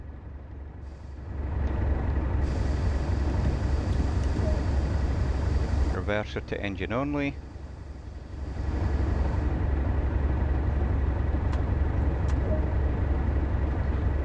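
Diesel coal train locomotive idling in a Train Sim World simulation of the Tees Valley Line, a steady low engine drone with a brief hissing air release midway while someone talks over it.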